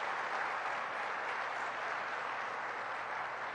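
Audience clapping at a presidential speech on the CHIPS and Science Act, steady sustained applause from a large crowd heard throughout, with no voices above it.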